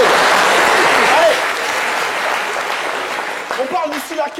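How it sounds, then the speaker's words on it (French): Audience applause at a French-language live show, a broad steady clatter of clapping that eases off after the first second and carries on more thinly, with a few voices and a short whistle rising near the end. "qu'on remercie à travers vos applaudissements"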